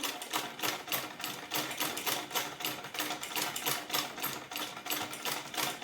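A sewing machine overlocks the seam of a suit, running in a steady rapid stitching rhythm with brief regular pulses, close and fairly loud throughout with no voices.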